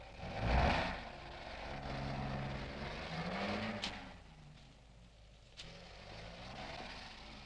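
Car engine rumbles and shifts pitch as the vehicle slows and pulls over to the roadside, a low drone with a brief rise in the middle and a couple of sharp clicks, fairly quiet overall.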